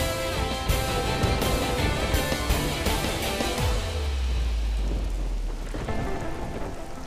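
Heavy rain pours down steadily and loudly, and a deep thunder rumble rolls in partway through and slowly fades.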